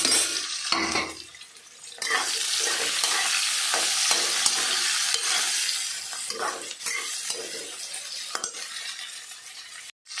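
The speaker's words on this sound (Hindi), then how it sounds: "अब मैं इसमें प्याज ऐड कर रही हूँ।" Chopped onion hits hot oil with roasted cumin, bursting into a loud continuous sizzle with scraping and clinking of a spoon stirring in the pan, close up and without talking.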